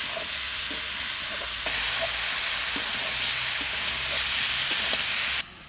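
Vegetables tipped together into a hot pan of oil and chilli powder for a katla fish and spinach curry, giving a steady, loud broadband sizzle and frying hiss that lasts almost the whole time, with a few small clinks, then stops abruptly near the end.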